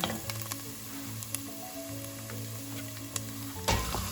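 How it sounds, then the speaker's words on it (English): Ground turkey sizzling steadily in a hot pan with onion, a continuous crackling fry with a few brief clatters near the end, no voices. "Now we're going to add our turkey meat to it."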